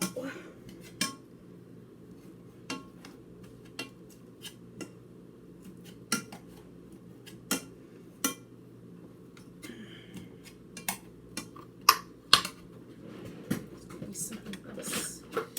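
Metal utensil clanking and scraping against a pot while food for spicy maple chicken is mashed by hand without a potato masher, irregular knocks and clinks fairly close, with no talking.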